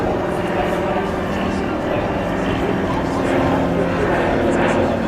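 A propeller airplane flies over the La Fière parachute drop near Sainte-Mère-Église during the D-Day 80th anniversary, a steady droning engine under continuous talk.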